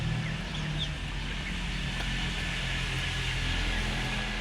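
Darag roosters and hens cluck steadily in a farm flock, with scattered calls overlapping against constant background noise; no one speaks.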